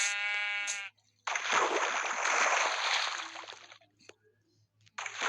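A Minecraft sheep gives a short, clear bleat at the start, followed by a long stretch of rushing, splashing game ambience, with another burst at the end.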